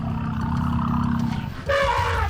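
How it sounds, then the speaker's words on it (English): A testy wild male elephant on the Okavango River rumbles and roars, a loud low sustained call close by that shifts into a harsher, higher trumpeting blast near the end. "A testy male elephant is looking for a female to mate with."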